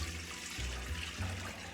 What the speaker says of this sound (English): I'm adding 6 cups of water into the pot.